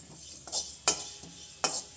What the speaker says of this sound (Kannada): ಇದು ಸಾಸಿವೆ ಮೆಂತ್ಯ ಜೀರಿಗೆ ಮತ್ತೆ ಮೆಂತ್ಯ ಎಳ್ಳು ಇವಾಗ ಇದು ನೋಡಿ ಚಟ್ಪಟ ಅಂತ ಆಗ್ತಾ ಇದೆ